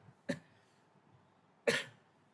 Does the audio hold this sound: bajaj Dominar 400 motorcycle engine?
no